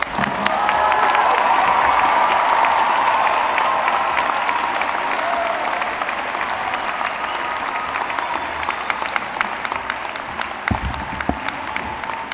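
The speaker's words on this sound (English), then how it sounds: "How about one more round of applause for every graduate?" At a 2019 university mid-year commencement, a large audience applauds the graduates with faint cheering. The applause starts full and loud, then gradually thins out toward the end.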